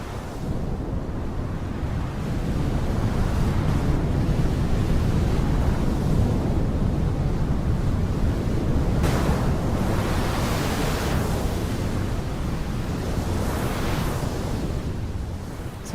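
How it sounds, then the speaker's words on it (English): Synthesized ocean waves made from filtered noise: broad hissing swells and recedes like surf rolling onto a shore, steady and washy throughout, with brighter surges toward the end. "usually noise and filtering and reverb or just envelopes to emulate the sound of waves, of wind"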